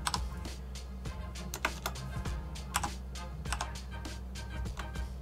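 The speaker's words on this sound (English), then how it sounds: "I'm going to type in Gaussian" Rapid, close keystrokes clatter on a computer keyboard in short bursts over a steady low hum, with no talking.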